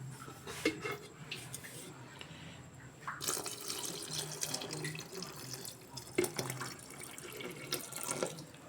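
Liquid pours and splashes as water is added to a banana-flower NPK fertilizer solution, an uneven trickle with louder gushes and drips, close by and fairly quiet, with faint background sounds.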